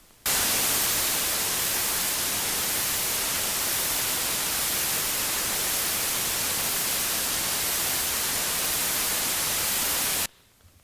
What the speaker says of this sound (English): That one was white noise.